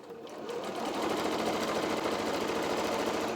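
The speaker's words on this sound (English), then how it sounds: "And then I just start sewing again close on that edge, keeping the raw edges together." A sewing machine stitches along the edge of a cushion cover, a close, steady rapid whirring that builds slightly in the first second and then runs evenly without pause.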